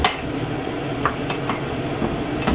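A utensil stirs fried potatoes around a pan over a soft, steady sizzle, with a few light scrapes and clinks against the metal at close range and no talking.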